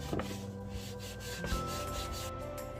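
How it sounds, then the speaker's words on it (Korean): A plastic kimchi container being scrubbed clean by hand without detergent, including its grooves, giving steady close rubbing and rasping strokes with a few sharper squeaky scrapes. "다시 한번 이렇게 깨끗이 홈도 깨끗이 닦아주세요."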